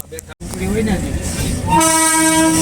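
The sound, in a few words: Indian Railways train arriving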